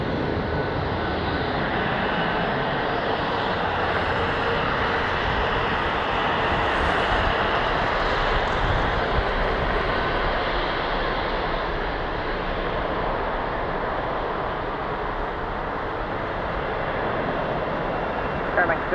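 An Air Canada airliner, an Airbus A220, lands on runway 24 left at Toronto, a steady broad jet roar that holds throughout at a moderate distance, with radio and tower talk over it.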